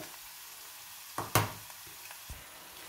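Tuna dropped into tomato in a hot pan, a soft steady sizzle broken by a sharp hiss and a few utensil clicks as it lands and is stirred.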